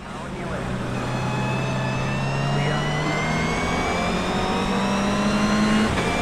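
A racing car engine in a driving video game with dynamic wet weather holds a steady high drone that slowly rises in pitch, loud and constant throughout, with road and spray noise beneath.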